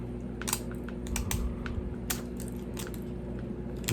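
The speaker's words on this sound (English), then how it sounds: "I'm going to save my nails and actually go after this with the X-Acto knife" A hobby knife scraping and picking plastic off a scale model part, producing irregular dry clicks and scratchy crunches in short bursts over a low steady hum, close up with no speech.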